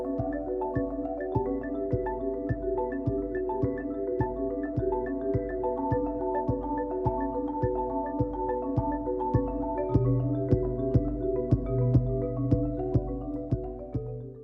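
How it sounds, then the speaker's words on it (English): Two players strike a marimba in a bright, fast run of wooden mallet notes with ringing tones. The rhythm is steady and evenly spaced, close and clear, with a few sustained lower notes swelling near the end. "That's the sound of the marimba."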